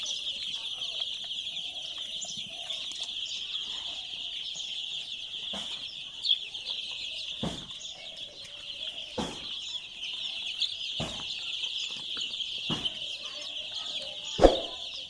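Sonali chicken chicks in a poultry shed, a steady chorus of high peeping and cheeping with a few sharp louder calls and occasional soft thumps or flutters, no talking.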